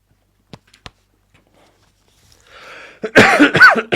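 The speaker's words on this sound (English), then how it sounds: "Excuse the coughing." A man recovering from weeks of illness coughs: a few faint dry catches early, then a rough breathy build and a loud, harsh burst of close coughing at the end.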